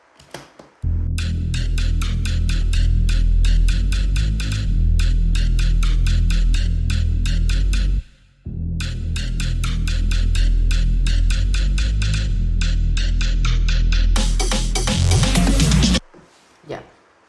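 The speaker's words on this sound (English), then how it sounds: "this is how the leads and the bass sound in the drop." A bass house drop plays loud and dense, with driving rhythmic leads over heavy bass. It breaks off briefly near the middle, then returns, with a bright noisy sweep rising before it cuts out.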